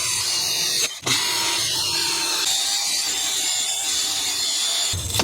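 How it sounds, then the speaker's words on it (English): A wire wheel spun by a drill scrubs rust off a brake hub on a Mercedes-Benz Sprinter 2500 van, a loud close continuous whir and grinding rasp with a brief drop near the start. "I'm going to use a wire wheel on a drill."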